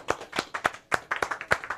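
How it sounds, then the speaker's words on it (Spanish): A small studio audience claps spontaneously, the sparse individual handclaps rising and falling in an uneven rhythm, close and fairly light, with no voices over them. "hay que pedir al público que está aquí en el estudio que aplaudan y que le pongan color. Esta vez salió espontáneo"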